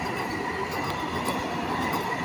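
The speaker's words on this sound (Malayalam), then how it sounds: "ഇത് വലിയ ട്രെയിനാട്ടോ." A large, long train rolls past close by, a continuous loud rumble of wheels and cars with faint metallic squeals and clicks over the rails, no talking.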